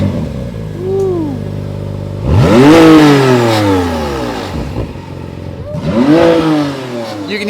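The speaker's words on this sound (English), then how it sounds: "You can hear the turbo spooling." A McLaren Artura driving with its turbo spooling: engine note rising and falling in two strong acceleration sweeps with gear changes, loud and close from inside or near the car, the turbo whistle blending into the engine roar.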